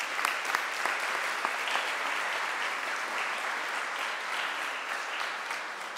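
Audience applause at a human rights and freedoms award ceremony, a sustained, even wash of many hands clapping, heard from a moderate distance with no one speaking over it.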